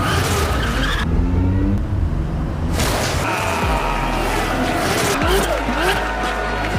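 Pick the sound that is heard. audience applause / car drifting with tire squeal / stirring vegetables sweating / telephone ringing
car drifting with tire squeal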